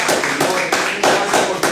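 Congregation clapping at a Spanish-language church service, a dense wash of applause with regular rhythmic pulses, as if the crowd claps in time, fairly loud and close.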